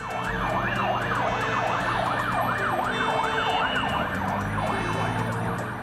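A loud fire engine siren wails up and down over and over without a break, with a low engine rumble beneath it.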